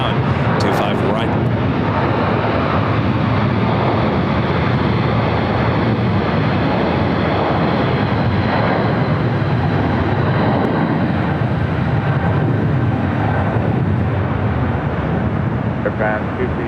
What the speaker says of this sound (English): China Eastern Airlines flight 586, the 777-300ER heading to Shanghai, now rolling down 25 right.